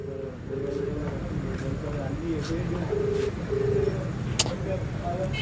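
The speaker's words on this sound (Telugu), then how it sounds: "ఒకసారి చూడండి, నేను కాల్ చేస్తా, కాల్ లిఫ్ట్ చేయడు." A ringback tone on an unanswered phone call repeats in short, even bursts with pauses between them, fairly clear over a low, steady background hum with faint murmuring.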